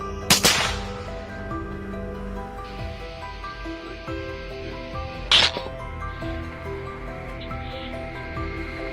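Gunshots fired during a night wild boar hunt: a sharp, loud report near the start and another crack around the middle, each standing out over a steady background hum and faint tones.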